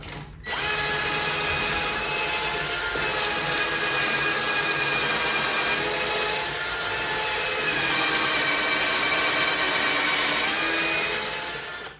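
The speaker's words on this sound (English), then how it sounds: "Now I gotta drill some pocket holes in these 6 boards." A power drill boring pocket holes in boards with a small Kreg pocket hole jig, one long steady high-pitched whine running close and loud, then stopping.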